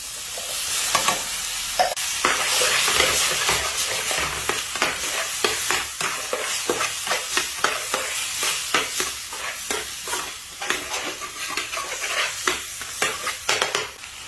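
Beans frying with garlic in a pan for a Yemeni dish, a steady sizzle broken by repeated sharp scrapes and knocks of a spoon stirring, close and continuous.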